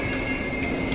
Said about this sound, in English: here's the next Fremantle train already arriving in platform 7